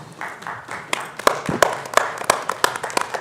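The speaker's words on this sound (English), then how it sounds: "Should ask for a round of applause for Chief Chase there." Audience applause at a Board of Aldermen meeting honoring a police chief: a room of scattered clapping with sharp individual claps standing out, steady and moderately loud for a few seconds.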